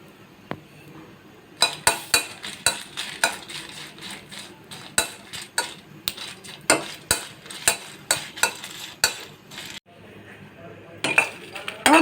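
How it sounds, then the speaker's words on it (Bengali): Chillies dry-roasting in a pan are stirred with a metal spoon, giving a steady run of sharp scraping clinks against a faint sizzle, pausing briefly near the end. "আমি প্রথমে মরিচটা টেলে নেব।"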